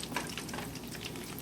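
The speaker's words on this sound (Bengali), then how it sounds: "আমি তেলের ভিতরে ভাজবো।" Mini doughnuts fry in hot oil, giving a steady, dense sizzle and bubbling crackle that stays close and even throughout, with no voices.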